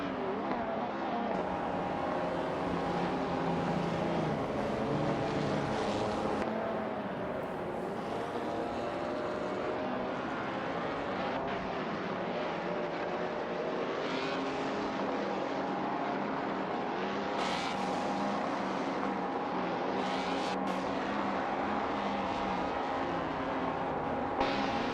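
Engines of 1950s Formula One cars at Le Mans in an AI racing simulator game drone continuously, a dense, steady roar with shifting pitch as the cars pass, with no talk.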